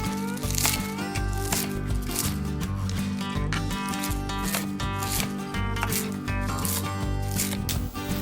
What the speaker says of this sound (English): Roughly chop spinach.